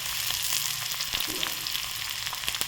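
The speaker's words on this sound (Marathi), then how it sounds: "त्यानंतर कांदा घालून घ्यायचा" Chopped onion dropped into hot oil with garlic in a pan, giving a steady, loud, close sizzle with faint stirring clicks and no talking.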